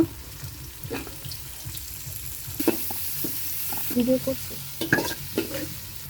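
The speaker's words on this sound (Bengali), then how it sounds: "কাঁচা মরিচ তারপরে কেটে রাখা বটবটি আর গাজরটা দিয়ে দিব এটা হালকা তেলে ভেজে দেন" Green chili and carrot frying lightly in a little oil for vegetable fried rice, a constant sizzle broken by repeated scraping stirs of a spatula against the pan, close and fairly loud.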